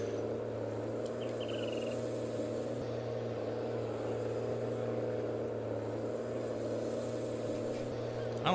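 Tractor engine in Farming Simulator 19 on Grizzly Mountain, a steady low droning hum running evenly throughout at moderate level, with no change in pitch or rhythm.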